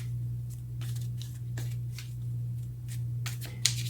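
A deck of tarot cards is shuffled close by in quick, soft riffling bursts over a steady low electrical hum, with a brief sharp snap near the end.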